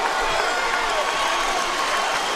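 A boxing crowd roars steadily through the Roy Jones Jr vs Jeff Lacy fight, with a dense, continuous wash of cheering at a consistent level and no break or lull.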